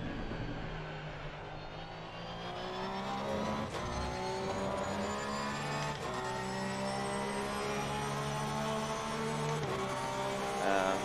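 A Porsche GT3 race car in Assetto Corsa Competizione revs hard at the Nürburgring, its engine note climbing through the gears with shifts and brief tire noise, loud and continuous with no talk.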